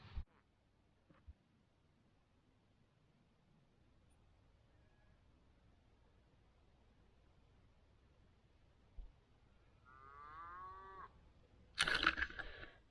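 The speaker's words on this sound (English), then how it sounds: "Disembodied moos and bars." Cattle on farmland beside a hilly walking route in Rossendale give a single faint, distant moo late in the stretch, over a steady outdoor hush, with a short rustling burst near the end.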